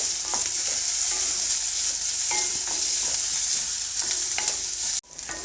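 Onions frying in a pan, a bright continuous sizzle with soft intermittent stirring clinks, close and even, cutting off abruptly near the end.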